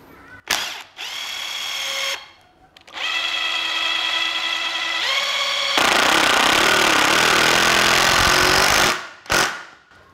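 A Bosch GDX 18V-200 cordless brushless impact driver drives a screw in close, loud bursts of high whirring and rapid hammering, separated by short pauses and ending with a couple of brief stops.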